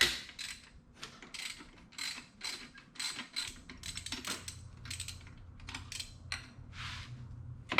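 A ratchet with a 12 mm socket loosening a bolt on a Subaru STI engine, giving quick clicking pawl bursts in short repeated strokes up close, with light metallic handling noises between them.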